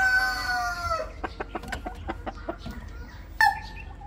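A fighting-bloodline rooster with a freshly trimmed comb crows loudly and alone, then gives a quick run of clucks before a short second call, close by in a backyard poultry yard.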